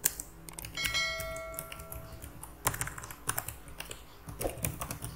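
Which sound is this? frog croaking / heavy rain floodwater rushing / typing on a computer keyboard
typing on a computer keyboard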